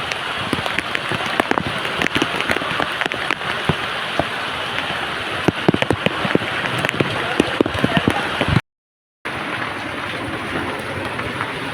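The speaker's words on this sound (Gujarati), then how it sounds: "અત્યારે જૂનાગઢમાં ધોધમાર વરસાદ પડી રહ્યો છે" Heavy rain pouring in Junagadh in a dense, constant roar, with scattered sharper patters and a brief dropout of silence near the end.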